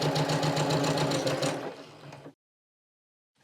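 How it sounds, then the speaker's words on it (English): A sewing machine stitches a seam in a rapid, loud, rhythmic whir, close up, slowing and stopping after about two seconds, followed by silence. "Off to the sewing machine."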